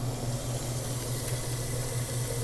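Hot water runs steadily from a tap into a large container at a smoothie bar, filling it for gallon-sized tea bags, a continuous close rushing stream with no pauses.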